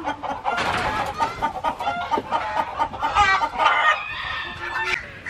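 Fancy-breed laying hens about a year and a half old cluck and chatter close by in a busy, overlapping chorus, with a hint of crowing mixed in.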